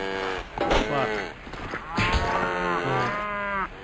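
Bull mooing in the video game Survivalcraft 2 while being tamed, with several drawn-out lowing calls following one another over a few seconds, loud and close.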